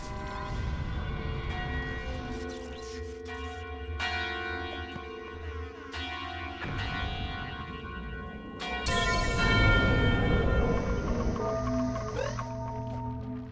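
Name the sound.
three chimes of the Grimbell in video game Super Bomb Survival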